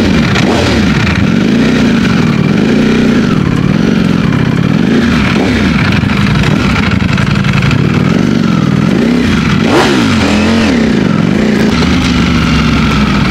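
Ducati Speciale motorcycle accelerating hard on a public road, a loud close engine roar rising and falling through repeated revs and gear changes, continuous for the whole stretch.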